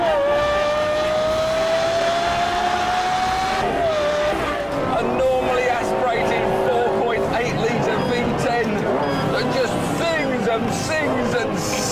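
A Lexus LFA engine revs hard toward 9,000 rpm, giving a loud, continuous high-pitched howl that climbs, drops briefly, then surges again with a dense, layered mechanical wail close by.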